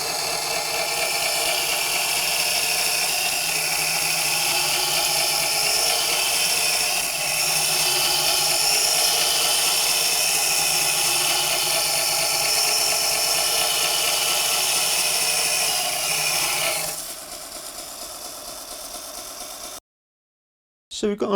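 An Axminster Ultimate Edge sharpening machine grinds a hand-tool blade, with a steady, loud motor hum and grinding hiss that drops to a quieter run near the end before cutting out.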